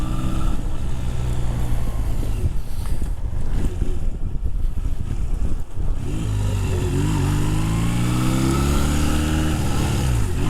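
A Honda Rebel 250cc motorcycle on a test ride: heavy wind buffeting first masks the engine, then its drone rises clearly in pitch as the bike accelerates.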